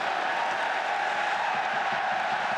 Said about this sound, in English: that brings the crowd back to life at the Stade de France